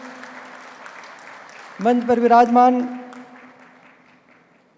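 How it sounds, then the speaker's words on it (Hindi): An audience claps through a conference inaugural session to welcome a dignitary on stage, a steady wash of applause running beneath an announcer's amplified voice, with a brief louder swell midway. "आप सबसे निवेदन करना चाहूँगा कि ज़ोरदार ताली बजा करके साहब का स्वागत करेंगे"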